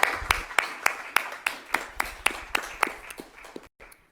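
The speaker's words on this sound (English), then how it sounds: "And can we give them a round of applause?" A small group at a council meeting claps for retiring staff, sparse and slow with distinct individual claps in a loose, steady rhythm that fades out near the end.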